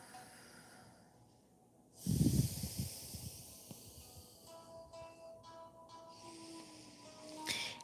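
Slow breath drawn and released through the nose during the yoga puppy pose, a soft hissing exhale that swells briefly then fades, close and quiet, with faint tonal background sounds later.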